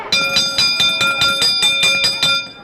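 A wrestling match ring bell rings in a rapid series of about nine sharp, metallic clangs, loud and evenly spaced, with no voices over it.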